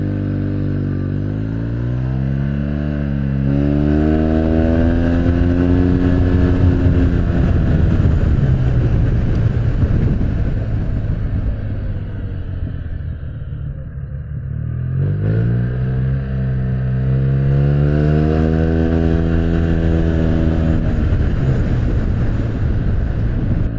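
A Yamaha T-Max scooter engine revs hard on a short test ride, climbing in pitch twice with a loud, close roar and strong wind buffeting, then dipping between the pulls.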